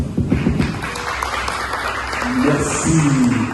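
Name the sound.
audience applause at ceremony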